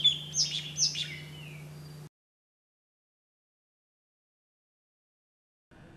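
Forest birds such as a black bulbul give two or three sharp chirping calls in quick succession over a steady low hum, then the sound cuts to silence.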